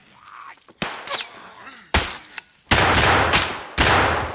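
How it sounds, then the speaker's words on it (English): Bursts of gunfire in Escape from Tarkov, several sharp loud volleys and sustained automatic fire separated by brief pauses, close and dominant, no talking. "Where is that guy shooting?"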